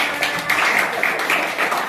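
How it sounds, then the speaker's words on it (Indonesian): Brief, lively clapping from a small group, quick overlapping claps for a couple of seconds with a faint voice underneath. "kasih tepuk tangan untuk Sapana"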